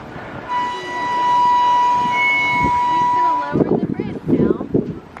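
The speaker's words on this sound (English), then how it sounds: "The horn that played earlier went off again." A train horn sounds near a bridge in the Ozark National Forest, a loud sustained multi-tone blast lasting about three seconds, followed by people talking.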